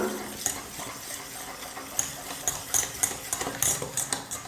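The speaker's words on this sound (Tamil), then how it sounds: "இதில் 1 கப் நெய்யை வந்து கடலை மாவில் சேர்த்துடுறேன். நல்லா உருண்டை இல்லாமல் நைஸாக நல்லா கரைச்சி எடுத்துக்கலாம்." A spoon stirring a cup of ghee into gram flour in a pan for Mysore pak, soft scraping and light clinks of utensil against metal, close and fairly quiet, with irregular taps throughout.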